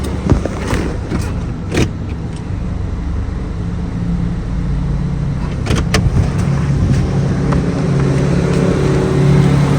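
Honda Accord 10th gen on lowering springs rolling over speed bumps, a steady loud road and engine rumble with a few sharp thumps and knocks from the suspension, faint voices in the background.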